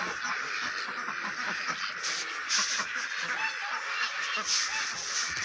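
Ducks quack and honk near a summer vegetable garden, a loose string of nasal calls spread over several seconds with some outdoor background noise.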